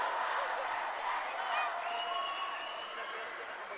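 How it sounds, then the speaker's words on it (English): Crowd at a college basketball final between San Beda Red Lions and JRU Heavy Bombers, a steady wash of arena noise with murmuring voices and scattered claps and cheers, continuous and fairly loud throughout. "Let's listen to the crowd."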